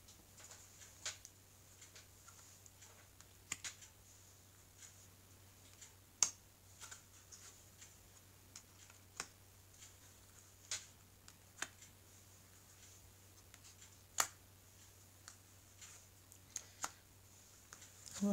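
A deck of oracle cards being cut and gathered during a reading, heard as scattered faint card taps and shuffles with a low steady hum underneath and no talk.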